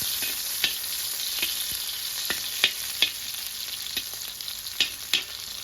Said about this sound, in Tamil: இது மட்டும் கொஞ்சம் பொரியட்டும்